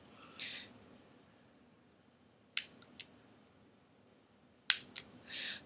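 Artificial nail tips are clipped off close up in two pairs of crisp little snips, each pair quick, with soft rustling between cuts in an otherwise quiet room.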